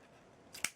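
A pair of scissors snips ribbon at an angle for a craft gift, a single quick crisp cut near the end, close and quiet, no voices.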